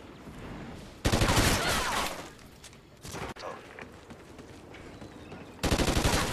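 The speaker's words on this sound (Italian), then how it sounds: "Io sparo alle gambe, vedi?" Gunfire in the video game Call of Duty: Ghosts comes as loud bursts of rapid automatic fire, separated by quieter stretches of game ambience.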